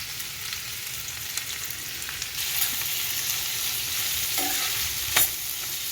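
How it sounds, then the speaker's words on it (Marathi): Vegetables including spring onion stir-fried in oil for Schezwan noodles, a continuous close sizzle that swells midway, with a few scraping clinks of the spatula against the pan. "तर हे तेलावर थोडंसं स्टर फ्राय करूया."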